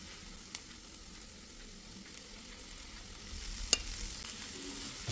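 Chopped ginger, garlic, curry leaves and a green chilli sauté in a pan, a soft close sizzle with spoon scrapes, one sharp clink near the end, no speech.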